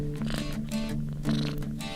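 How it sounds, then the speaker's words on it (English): A pet cat purrs close by, a soft continuous rumbling drone that pulses in gentle rhythmic cycles, with no talking over it. "your cat starts purring like a small engine."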